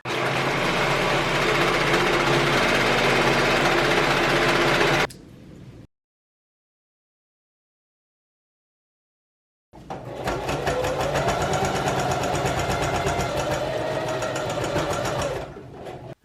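A sewing machine stitches binding along the seams of a reversible quilted vest, running loud and steady for about five seconds, stopping for several seconds of silence, then starting again for another long continuous run.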